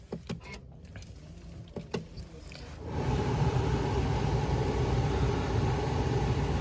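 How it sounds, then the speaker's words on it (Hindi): Ignition of a 2022 Tata Safari XZ+ switched on from inside the cabin: a few clicks, then after about three seconds a steady whirring hum starts and holds, close and fairly loud. "सो एक बार अपन इसके इग्निशन को ऑन कर लेते हैं।"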